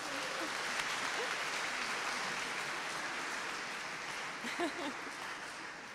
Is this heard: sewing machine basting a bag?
no